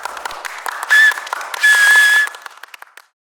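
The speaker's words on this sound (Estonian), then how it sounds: "Mõnikord vallandab artistide etteaste publikus ovatsiooni." A theatre or concert audience gives an ovation after a performance: dense, loud clapping with shrill whistles rising twice above it, then the noise thins and fades to silence.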